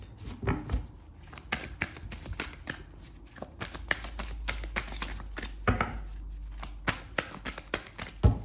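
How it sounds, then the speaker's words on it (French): A deck of tarot cards is cut and handled up close, giving rapid papery riffles and slaps in uneven bursts with no voice over them. "Alors, je vais faire la coupe."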